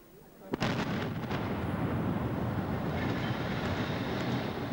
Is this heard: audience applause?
no